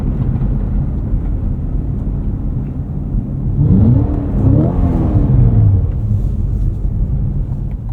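A 2024 Cadillac CT5-V Blackwing driven through fairly deep snow, heard from inside as a steady loud road and engine rumble, with the engine note rising in a brief rev in the middle before settling back.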